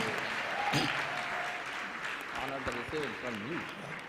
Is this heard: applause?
yes